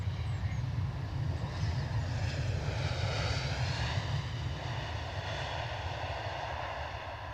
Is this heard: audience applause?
no